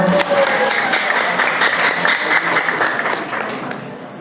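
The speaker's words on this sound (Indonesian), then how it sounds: "Ya, tepuk tangan untuk kita semua." Audience applause at a school literature appreciation performance fills the space, a dense steady wash of clapping that holds strong and then gradually thins toward the end.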